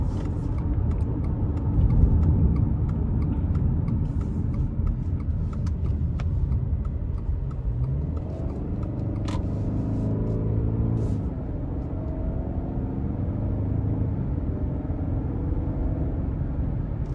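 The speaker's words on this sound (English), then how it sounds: "take this Subaru Legacy out on the road for a quick test drive" A 2021 Subaru Legacy Premium with a naturally aspirated four-cylinder engine driving on the road, giving a steady close cabin rumble of engine and road noise that holds constant throughout without talk.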